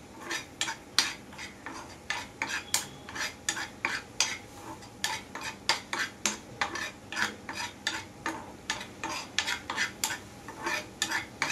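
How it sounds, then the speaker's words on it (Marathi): A spoon stirs a stuffing of ground raw onion, special masala and salt for stuffed bitter gourd, making brisk rhythmic scrapes and clinks against the pan that repeat closely throughout, with no talking. "आता हे एकजीव करून घेऊया."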